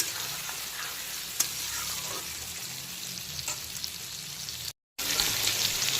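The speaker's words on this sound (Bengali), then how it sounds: "এখন চিংড়িগুলো কিন্তু মিডিয়াম ফ্রাই হয়ে গেছে" Prawns fry in mustard oil with a steady, dense sizzle and occasional stirring scrapes. The sound stops briefly near the end.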